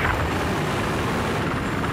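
Attack helicopter in the video game Battlefield 4, a loud continuous rotor and engine drone with steady low thumping, close and filling the whole moment.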